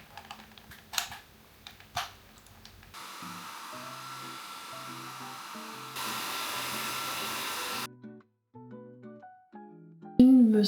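A hair dryer blows in a home bathroom while hair is dried, its steady airflow hum running several seconds and shifting to a higher setting, with tapping, clicks and handling noises before and after.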